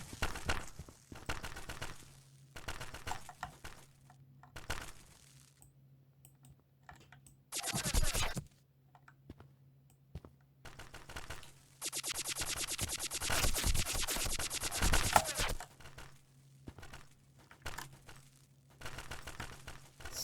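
Bursts of rapid gunfire come from a realistic first-person shooter game. Two dense bursts, one short and one sustained for several seconds, stand out against scattered faint clicks and quiet gaps.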